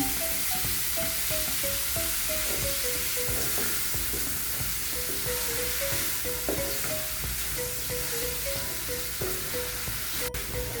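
Squid sizzles steadily in a pan with tomato paste, a dense, even crackle and hiss that carries on unbroken at close range, with a faint repeating tone beneath it and no talking.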